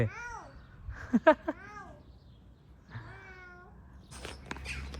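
Several cat meows with bending, drawn-out calls, alongside a few sharp thumps and some background rustling and noise.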